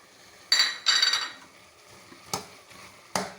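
Cubed cabbage and capsicum tossed and stirred in a cooking pan, a few sharp metallic clinks and scrapes of the spoon against the pan, short and close.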